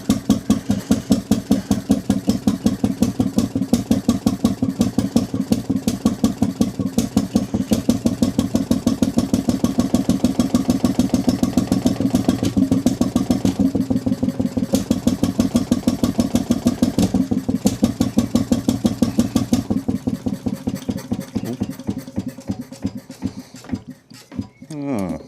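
A 1909 Detroit two-stroke engine runs steadily with a rapid, even chuffing beat, loud and close, before slowing and faltering near the end.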